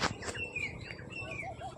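Sparrows chirp in a farm field, with several quick, thin tweets and short calls in succession, fairly faint and close to the open air with no voices.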